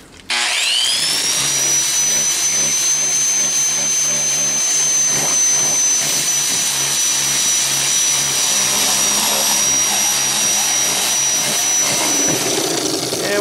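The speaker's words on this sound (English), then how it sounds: "do a little grinding" A power grinder spins up and grinds steadily against stone being shaped and rockfaced, a loud, close, continuous high whine lasting over twelve seconds with no break.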